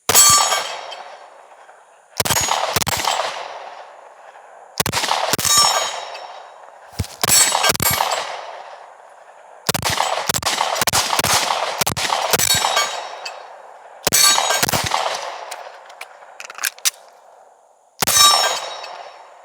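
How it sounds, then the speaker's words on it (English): An HK VP9 A1 pistol fires at steel targets outdoors. Loud single shots and quick strings of shots each ring with a metallic clang, separated by short pauses across the stretch, with no talking. "First time for any of us, James included, shooting the VP9 A1 series."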